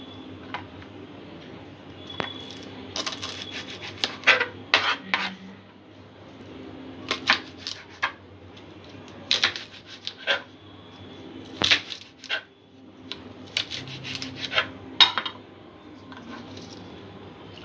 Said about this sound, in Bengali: পেঁয়াজ কলিটা আমি টুকরো করে কেটে নেব